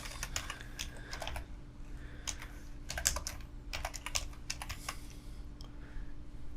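Rapid clattering keystrokes on a computer keyboard, bursts of typing and repeated deleting with short pauses, close and steady over a low background hum.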